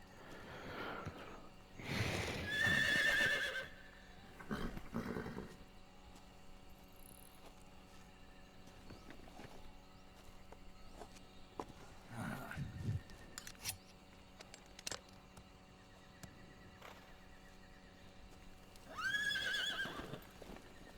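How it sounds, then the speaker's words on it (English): A horse in a video game gives several loud whinnying neighs, one near the start and another near the end, with snorts and scattered hoof clops and clicks in between over a low ambient hum. "Why did we hear a horse neigh?"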